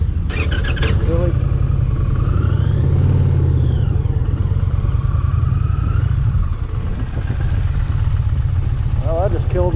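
An Indian motorcycle engine runs close by with a steady, deep, loud rumble, and a voice is briefly heard over it.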